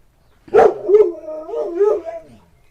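One dog gives a loud bark, then slides into a wavering, drawn-out howl that rises and falls before trailing off.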